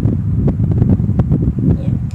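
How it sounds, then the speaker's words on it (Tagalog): An electric fan runs steadily in the background, a continuous low whooshing hum with buffeting flutters, loud and close to the microphone with no talk over it. "maingay yung sa likod, yung sa electric fan"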